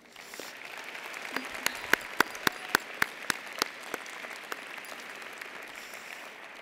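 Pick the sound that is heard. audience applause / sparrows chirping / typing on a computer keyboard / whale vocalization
audience applause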